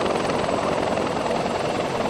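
Helicopter in the video game Arma during a JSOC operation, a steady loud rotor drone with dense broadband wash and a faint rhythmic blade throb, no talking.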